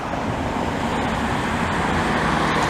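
An older STL city bus rolls along Gouin Boulevard in Montreal's Cartierville district, a steady broad engine and tire roar filling the street, close and continuous with no voices.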